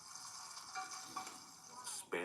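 Spam sizzles and fries in a pan with a steady hiss, while a voice speaks over it and a short clatter comes near the end.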